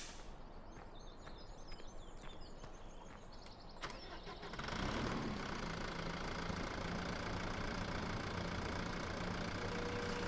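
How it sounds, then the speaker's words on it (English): A Cat skid steer engine runs in Farming Simulator 17, with mechanical clanks at first before the engine revs up into a steady, loud, close drone that holds to the end. "hop in the skid steer one last time"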